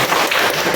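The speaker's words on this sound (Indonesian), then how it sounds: "Tepuk tangan dulu dong." Students clapping their hands together in a classroom, a brief loud burst of close, dense claps lasting under a second with no talking over it.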